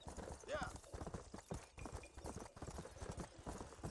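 A horse's hooves clip-clop in a steady rhythmic gait as a rider travels in the video game Red Dead Redemption, with a brief whinny near the start and a voice talking over the hoofbeats.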